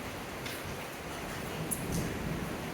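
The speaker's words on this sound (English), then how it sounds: "you hear the rain picking up?" Steady rain falling outside, a constant soft hiss of drops with faint patters, low and continuous throughout with no voices.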